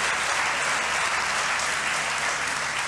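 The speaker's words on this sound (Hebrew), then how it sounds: "וואי, מגיע לנו מחיאות כפיים" Steady audience applause, a dense even wash of clapping at constant loudness throughout, with no voices standing out.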